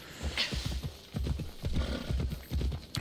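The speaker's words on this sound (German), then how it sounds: "Ah, kommt doch schnell mal das Pferd." Horse hooves gallop in the video game Assassin's Creed Odyssey with a quick, rhythmic clip-clop and a short whinny, heard at moderate level.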